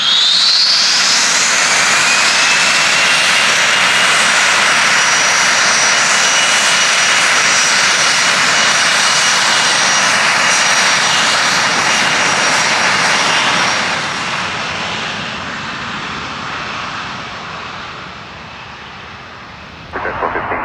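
An airplane takes off from runway 24 at McClellan-Palomar Airport, its loud engine roar dominating, then gradually fading over twenty seconds as it climbs away, with radio voices faintly present.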